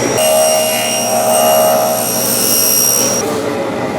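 A round nose router bit cutting a groove in a large wooden pulley gives a loud, steady high-pitched whine for about three seconds before it drops away.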